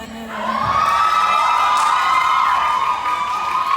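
An audience at a performance during an event in Chanthaburi, Thailand, cheers loudly in a sustained, dense roar, with a high whistle-like tone running through it and no clear talk.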